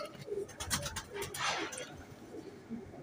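A female royal teddy pigeon coos softly nearby, giving a few low throaty rolling calls that are quiet but clear.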